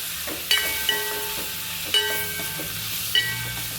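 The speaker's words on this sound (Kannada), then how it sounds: "ಅದು ಸ್ಮೆಲ್ಲು ಚೆನ್ನಾಗಿ ಹೋಗೋವರೆಗೂ ಸ್ವಲ್ಪ ಕೈ ಆಡಿಸಿ." Ginger-garlic paste sizzles gently in a pan while being stirred, with a steady frying hiss broken by a few soft utensil scrapes and clicks; no one speaks.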